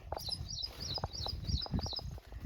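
Birds chirp in quick repeated bursts outdoors on a farm in Maharashtra, high and fairly clear, over a low rumbling background with faint noise.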